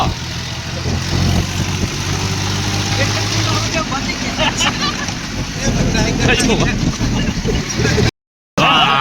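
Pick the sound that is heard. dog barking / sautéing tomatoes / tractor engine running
tractor engine running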